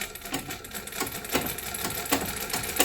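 A sewing machine stitches a saree, running with a fast, steady, close mechanical whir and rhythmic needle thumps throughout.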